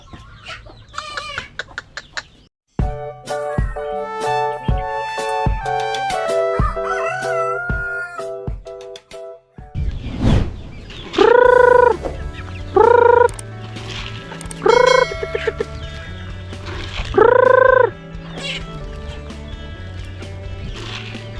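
Free-range chickens cluck and a rooster crows loudly in repeated bursts, several clear crows standing out near and loud over steady background clucking and farmyard noise.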